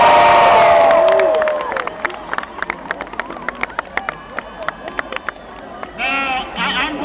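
A fired-up crowd at a rally cheers for the Roots with loud, sustained whoops, shouts and whistles. The roar swells again near the end.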